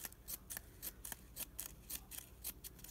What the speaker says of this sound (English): Now I'm at the wire, so now I can just snip, snip, snip.